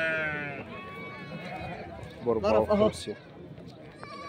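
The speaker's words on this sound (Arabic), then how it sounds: "54 خروف يا جماعة" Sheep bleat at a goat and sheep market in Aswan, with a burst of loud close bleats in the middle, while someone talks over most of the short span.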